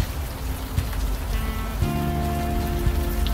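Steady rain pours in the video game Unavowed, a continuous close patter on surfaces with a low rumble beneath and occasional louder drops, no voices present.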